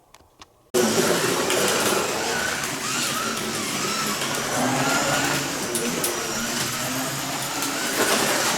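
Carrera Digital 124 slot car, a number 28 Ferrari, whirs steadily around the track with a continuous motor whine that starts abruptly after a brief quiet moment, loud and close.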